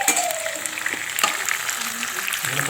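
Pakoras frying in hot oil give a steady, close sizzle and crackle throughout, with light clinks and faint kitchen noise underneath.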